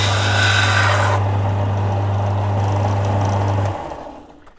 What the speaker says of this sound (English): Belt sander, fantastic machine for all sorts of things.